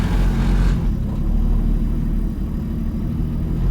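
A 1958 GMC Apache fleetside pickup's engine held in low gear, a steady close rumbling drone with a brief brighter burst at the start, continuous and loud with no talk.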